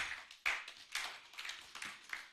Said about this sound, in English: Please, it deserves a bigger round of applause.